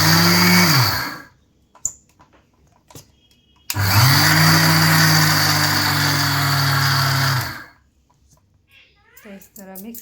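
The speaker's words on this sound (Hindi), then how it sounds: "तो इस तरह मिक्सी में ये हो गया इसका छिलका" Kitchen mixer grinder stripping husks off red chillies for stuffed pickle, two loud whirring bursts, a short one and a longer one of several seconds, separated by quiet clicks and handling noise.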